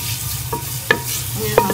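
Browning onions sizzle steadily in a pan for saag, with a few sharp scrapes and clacks of a spoon stirring through them, close and without speech.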